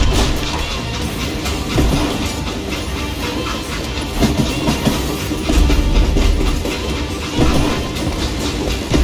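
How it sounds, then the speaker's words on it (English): Train rolling along the tracks in the video game Call of Juarez: Gunslinger, loud rhythmic clickety-clack of wheels over rail joints on top of a continuous heavy rumble. "It was then that Jesse detached the express car from the rest of the damn train."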